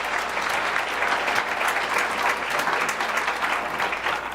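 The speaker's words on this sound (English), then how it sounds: "let's have a big round of applause for our panel who's here today" An audience gives a panel a sustained round of applause, with dense, even clapping filling the room at a steady, moderately loud level.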